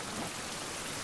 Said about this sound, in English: It be raining again.